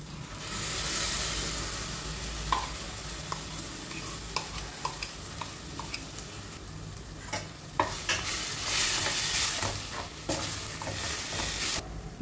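Spinach paste is added to a pan of cooked spinach and stirred, giving a soft sizzle under scattered scraping and clinking spoon taps, close by with no talking.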